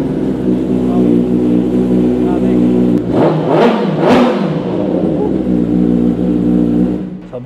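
Loud revving from a piped Kawasaki ZX-10R sport bike during a soundcheck, a steady idle rising into two sharp throttle blips in the middle, then settling back to a rumbling idle, up close with no talk.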